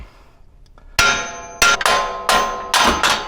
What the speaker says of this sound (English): tap it on the knuckle itself